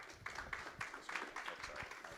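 Applause from a conference session audience welcoming a speaker to the stage, a steady wash of hand claps at moderate distance lasting a couple of seconds with no voices over it.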